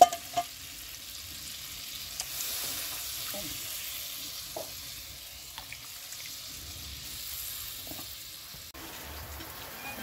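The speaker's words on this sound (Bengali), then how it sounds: "মশলাটা আমার ভালোভাবে কষিয়ে নেওয়া হয়ে গেছে, এবার আমি এটাকে জল ঢেলে দিচ্ছি" Water is poured into a pan of fried spice paste for pabda fish curry, sizzling and hissing at close range with occasional stirring clinks and scrapes.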